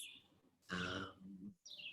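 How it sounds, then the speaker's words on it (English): Small birds chirp in high, bright bursts near the start and end, faint and intermittent, while a voice and a throat-clearing sound break in across the middle. "the birds behind you, it's so charming."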